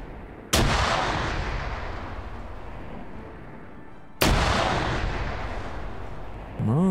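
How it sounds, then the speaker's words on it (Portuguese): Two loud, heavy blasts from grenades in the military shooter game Arma 3, several seconds apart, each ringing out into a long rumbling decay, with a brief rising tone near the end and no talk. "Ah, estão jogando granada."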